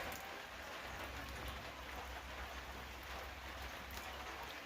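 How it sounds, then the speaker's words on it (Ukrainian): Steady rain falling in a village, a soft even hiss of drops with light dripping, continuous and fairly faint throughout with no other sounds. "До обід було сонячно, а це пішов дощ."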